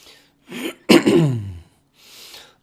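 A single person's harsh throat-clearing cough, a short burst followed by a raspy exhale and a faint breath after, close and loud with no talk.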